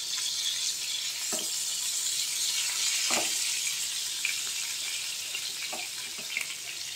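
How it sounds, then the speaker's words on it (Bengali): Pointed gourd (potol) pieces frying in oil in a pan, a steady close hiss and crackle with a few soft knocks and stirring scrapes, no voices. "এই পটলগুলোকে আমি একটু লালচে পোড়া পোড়া করে ভেজে নেব"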